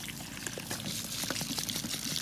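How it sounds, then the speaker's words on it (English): A small FLUENTPOWER water pump discharges murky, dirty water in a steady, close pouring trickle that runs without a break. "This pump just continues to run it, regardless of how gross that water is."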